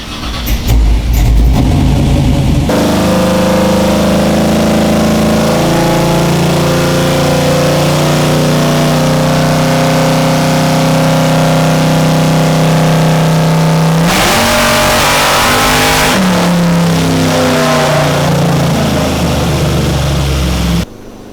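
A Camaro on a dyno at wide-open throttle: the engine roars up in a sustained, rising rev for several seconds, very loud and close, then drops off and settles before cutting out.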